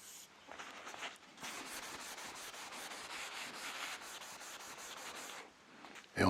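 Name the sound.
sanding wood at 1000 grit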